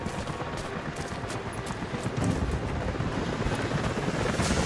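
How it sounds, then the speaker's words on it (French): Continuous rotor noise of helicopters approaching in the video game Rise of the Tomb Raider, with scattered sharp cracks like distant gunfire, growing a little louder midway through. "les hélicoptères arrivent dans votre direction"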